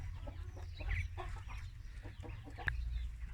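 Fighting gamecock chickens, a breeding rooster among a farm flock, give faint scattered clucks and calls over a steady low rumble, with one short sharper call standing out near the end.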